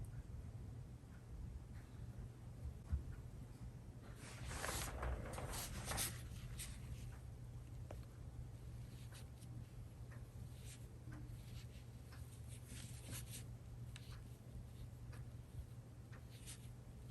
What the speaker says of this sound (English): So I'm going to write it on the